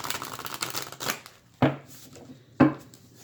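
Oracle and tarot cards are shuffled by hand, giving a soft riffling flutter followed by two sharp, close taps as the deck is squared, with no voice.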